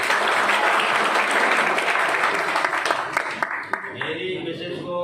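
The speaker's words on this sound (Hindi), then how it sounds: "जोरदार तालियां सीहोर से।" An audience claps loudly in a dense, sustained burst of applause that gradually thins out toward the end, with a speaker's voice coming through as it fades.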